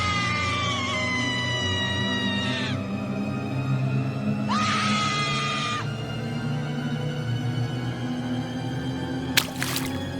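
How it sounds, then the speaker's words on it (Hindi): A girl screams for help as a horror-story sound effect. Two long, high, wavering screams fall in pitch over a low, steady drone, and a brief sharp crack sounds near the end. "लड़की चीखती हुई, बचाओ, कोई बचा लो।"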